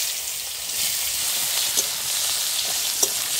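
Chopped onions go into hot oil already seasoned with whole cumin seeds and bay leaves, producing a steady, close sizzle with a couple of faint clinks from stirring.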